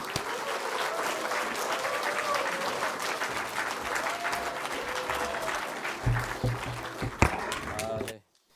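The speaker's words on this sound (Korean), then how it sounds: "우리 그래도 환영과 격려의 박수로 우리 환영하도록 하겠습니다" Church congregation giving welcoming applause to a youth pastor at a Korean Sunday service, sustained loud crowd clapping for about eight seconds with a few voices calling out, then ending abruptly.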